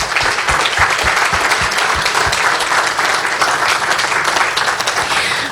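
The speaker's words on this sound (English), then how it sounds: "can we give them a huge round of applause?" An audience at a national security conference gives speakers a loud, sustained round of applause, dense clapping with a few distinct claps near the start, holding steady to the end.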